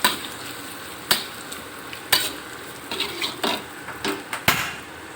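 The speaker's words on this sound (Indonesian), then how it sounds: "Kita goreng terinya seperti biasa." Sharp clatters and scraping strokes stand out over a steady background hiss of anchovies frying in oil in a pan, with no talking.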